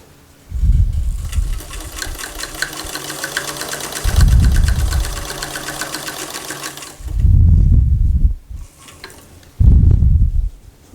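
A home sewing machine runs top stitching down a placket edge on a housedress, in four separate bursts: a long rapid run, then three shorter stretches with quiet pauses between, close and clear with no talking.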